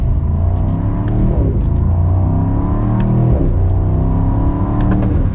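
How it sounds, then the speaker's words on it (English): A 2022 Mercedes-Benz SL63 Roadster accelerates gently, its engine a loud, steady low rumble heard from inside the car, with rising harmonics as revs climb smoothly and no talking. "Just a mild acceleration, and this definitely gets up and moves"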